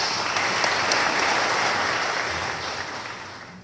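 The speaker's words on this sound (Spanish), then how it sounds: "recibamos al doctor Alfredo Araya Vega, juez superior del Tribunal de Flagrancia de San José de Costa Rica, como recibimos los peruanos, con un fuerte y caluroso voto de aplausos" Audience applause at an international conference on flagrancy procedure, a dense steady wash of many hands clapping throughout, gradually easing off toward the end with no voices over it.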